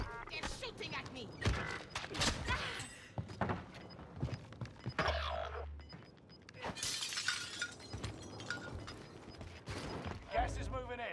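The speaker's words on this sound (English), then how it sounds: "They're shooting at me." Gunfire in Call of Duty Warzone on Rebirth Island, sharp loud cracks and bursts scattered among crashes and mechanical clatter, with a voice talking over much of it.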